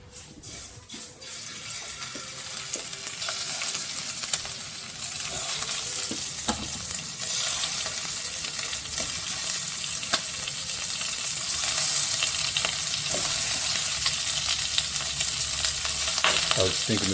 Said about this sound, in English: we're going to put some of these shrimp in there and get them going